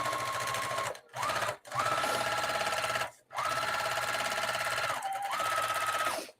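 A sewing machine stitches all the way around fabric pieces to baste them for a Crown Royal–style bag, running in fast steady bursts separated by brief stops, close and clear with no talking.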